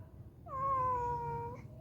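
A cat gives a single drawn-out meow, fairly quiet and close, with no talk over it.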